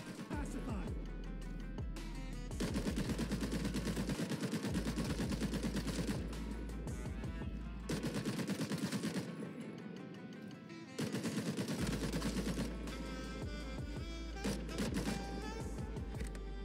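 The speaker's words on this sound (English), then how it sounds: "Matador is a support operator equipped with a M60 E4 machine gun" An M60 E4 machine gun fires in the video game Caliber, loud sustained automatic bursts broken by short pauses, with someone talking steadily over the gunfire.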